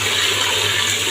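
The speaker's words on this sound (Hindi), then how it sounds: "अब पानी भर लूँ मैं" Water rushes steadily from a motor-fed supply while filling containers at home in India, a loud, dense, continuous gush with no breaks across the brief moment.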